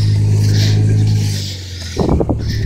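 An Audi A4 2.8 with a holed muffler and broken exhaust gives off a loud, deep, raspy drone that dips briefly, then breaks into uneven, sputtering exhaust pulses, close by.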